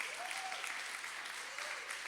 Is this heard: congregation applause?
yes